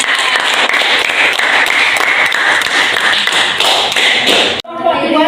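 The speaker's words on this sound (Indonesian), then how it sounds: "Tepuk tangan untuk kelompok 2." A class applauds a presenting group, loud and continuous clapping that fills the room and then cuts off abruptly, leaving quieter room sound with a voice near the end.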